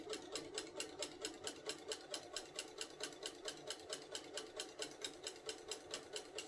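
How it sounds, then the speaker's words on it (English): Sewing machine stitching steadily through layered rag quilt fabric, a fast, even needle rhythm of evenly spaced clicks with a motor hum underneath, close and moderately loud, continuous and alone with no talking. "Do some back stitching. Go ahead and sew through it."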